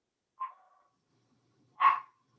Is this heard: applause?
no